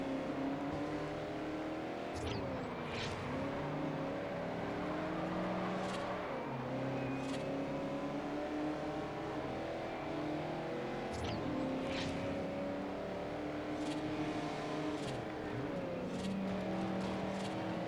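Race cars in the Forza Horizon 1 racing game, including a Lancia, engines droning and revving continuously with gear-shift dips and rising whines, steady and moderately loud with no talk.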